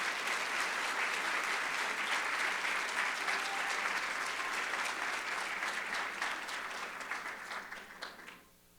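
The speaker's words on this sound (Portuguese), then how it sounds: "Peço uma salva de palmas," An audience at a nature-conservation award ceremony breaks into steady, dense applause that holds for several seconds before thinning out and stopping, loud and close with no voices over it.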